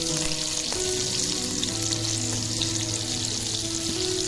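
Sardines sizzle steadily as they fry in a pan, a dense continuous crackle of hot oil with faint clinks of a utensil now and then, close and fairly loud with no voices.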